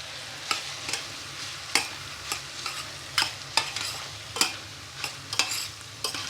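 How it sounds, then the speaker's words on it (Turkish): Pasta being stirred into a frying pan, with a soft sizzle underneath and about a dozen scraping, clattering stir strokes spread irregularly across the clip, close by and moderately loud. "makarnamı ilave ediyorum içerisine"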